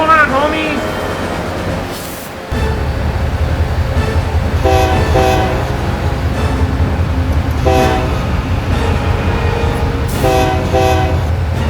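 An animated Genset locomotive pulls a train, its horn blasting in short repeated bursts over a loud, continuous rolling rumble of rail wheels, with voices shouting in between.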